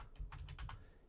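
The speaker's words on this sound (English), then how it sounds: "in this search type in Selenium" Quiet bursts of keystrokes on a computer keyboard, a handful of quick taps in about a second, close and fairly soft.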